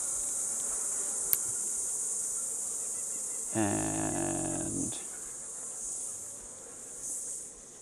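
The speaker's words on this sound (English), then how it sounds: "I'll just shake these bees off." Honey bees swarm around a flow frame hive in a steady high buzz, swelling into a louder, deeper droning burst midway as the frames are handled, then easing back; a voice briefly speaks.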